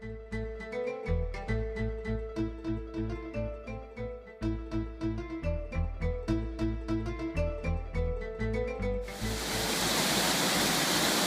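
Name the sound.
headwaters of the Jordan River flowing at Caesarea Philippi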